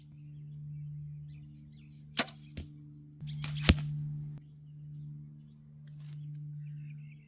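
A compound bow with a thumb button release looses an arrow during target practice: a sharp snap of the string and a brief thwack, with a few smaller clicks, over a steady low hum in a quiet setting.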